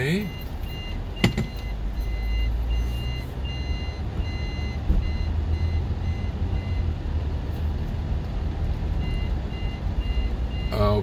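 A truck backs up on a Los Angeles street with its reversing alarm beeping steadily in a regular pulse over a low idling engine rumble, with faint traffic noise and occasional voices.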